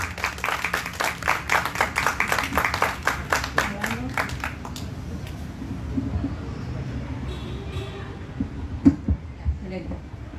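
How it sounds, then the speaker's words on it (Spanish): An audience at a talk on self-publishing claps to welcome a speaker, a burst of brisk, fairly close applause that fades out within a few seconds, leaving quiet room tone and faint sounds. "Con fuerte aplauso, recibamos a Mirza Patricia Mendoza Serna."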